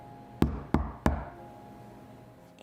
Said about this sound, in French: Poli, il frappa.